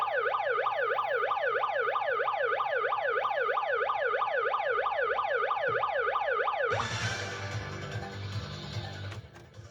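An emergency siren wails in rapid rising and falling sweeps for several seconds during a Brazilian radio news broadcast, then cuts off into rumbling street noise.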